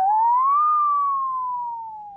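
A musical saw mimics an ambulance siren in a single loud, pure gliding tone that rises, peaks, then slowly sinks and fades, played alone.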